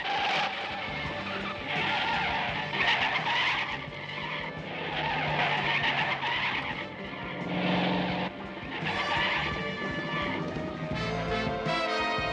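A car in a 1980 spy film races and skids, with repeated long tire squeals over a revving engine, loud and close, with bursts of screeching rising and falling throughout.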